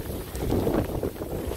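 Strong wind during tropical storm Eta, gusting loudly and buffeting the microphone in a steady roar for a short moment, no voices.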